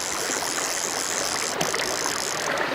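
Water on Big Nance Creek makes a steady, close, hissing rush that stays unbroken throughout, with a couple of faint knocks.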